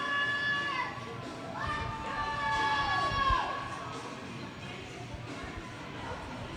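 Spectators at a Minneapolis versus OMG Crimson hockey game shout and cheer, with excited, high-pitched young voices rising in a sustained swell that eases into a steady background murmur.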